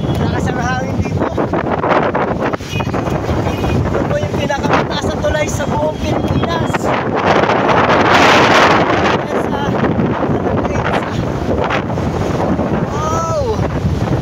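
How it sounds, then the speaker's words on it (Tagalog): Strong typhoon wind batters the microphone on the highest bridge in the Philippines, a loud continuous buffeting roar as someone talks over it throughout. "Lakas ang hangin dito."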